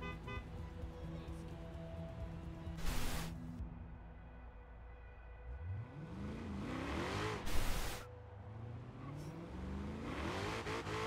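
A car engine revs in the Forza racing game, rising and falling through several climbing sweeps with loud bursts, a steady drone underneath throughout.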